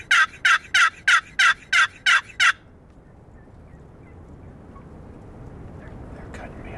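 A wild turkey gobbles in a fast run of eight sharp, loud calls close by during a spring archery turkey hunt, followed by quiet outdoor ambience.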